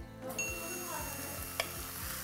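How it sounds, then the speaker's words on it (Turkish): Cubed beef sizzles in a preheated casserole pot with no oil, a steady crackling hiss with repeated scraping stir strokes and a brief clink of utensil against metal. "şu cız sesini duyarak ama yani tavuk olsa da cız sesini duyarak olur"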